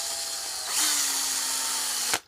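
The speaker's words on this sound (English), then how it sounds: "Then I like to just take my long drill bit again" Power drill spinning a long bit to clean burnt, sooty residue out of the handle hole of an antler knife handle, a steady high whir that rises in pitch, loud and close, ending with a sharp stop.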